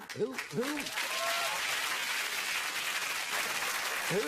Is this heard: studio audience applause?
yes